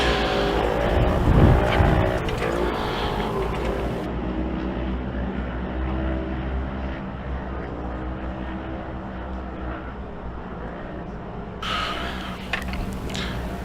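Youth 1000 UTVs racing on a dirt short course track at a fairgrounds: loud, continuous engine roar from several vehicles revving and droning together, rising and falling as they pass, with no talk.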